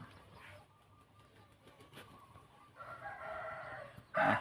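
A rooster crows loudly near the end of the clip, following softer clucking from chickens at a farm with cattle pens, with quiet background ambience.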